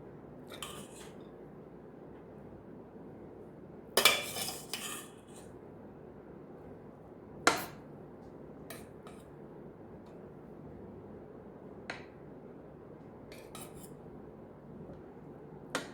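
A utensil clanks sharply twice against a pot while rice is layered over ghee into a paneer biryani, with faint taps and a low rustle between the knocks and no talking.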